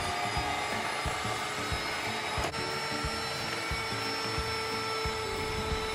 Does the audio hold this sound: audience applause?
no